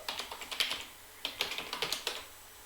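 Keys are tapped on a computer keyboard while a password is entered into an F5 BIG-IP Virtual Edition system: quick, fairly quiet clusters of keystrokes separated by a short pause.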